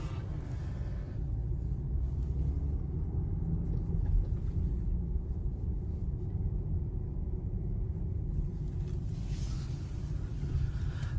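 A 2023 Range Rover Sport Dynamic SE pulling away, heard from inside the cabin as a steady low engine and road rumble that holds evenly throughout, muted and without talk.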